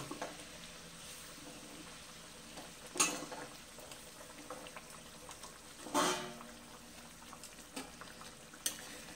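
Masala gravy for rohu fish curry bubbles in a pan, a faint continuous simmer with a few louder splashy bursts spaced several seconds apart.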